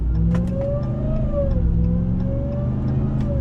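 A supercharged Ram TRX truck engine with a GTHAUS exhaust revs steadily up and down with a rising and falling whine, continuous and close, with no voices.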